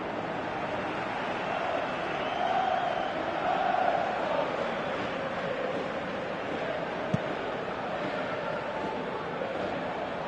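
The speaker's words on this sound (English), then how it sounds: "you can feel and hear how the crowd are reacting to all of this" A large stadium crowd in a Pro Evolution Soccer 2018 football match roars steadily throughout, a dense wash of noise with a slight swell partway through.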